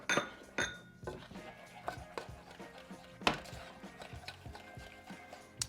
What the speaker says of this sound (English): We'll get that brown sugar and butter mixed up the best we can here.